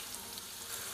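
Potatoes deep frying in hot oil give a faint, continuous bubbling hiss, brief and even, with no voices.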